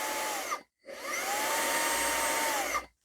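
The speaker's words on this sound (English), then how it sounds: "If the power is low, you can still use the vacuum cleaner for a normal cleaning mode, but not the power mode." A Xiaomi Mijia portable handheld vacuum cleaner whirs at a steady high pitch in normal mode, running briefly, cutting out for a moment, then running again for about two seconds before stopping; close and fairly quiet.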